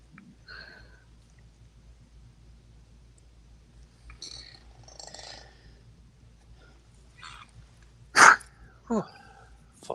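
A single sharp, loud sneeze bursts out near the end, followed closely by a shorter burst, against a quiet indoor background with faint scattered voices and small noises earlier.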